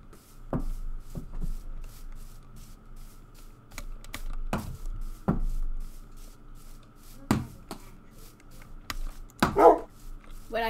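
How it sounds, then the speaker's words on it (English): A dog barks a few times in short, scattered bursts, moderately close, over soft keyboard typing and light handling noises in a room. "I hear a dog."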